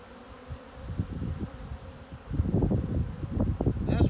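Honeybees hum steadily around an open hive during an inspection of a newly installed package colony, the buzzing swelling in louder bursts partway through, with rustling handling noise and no talk.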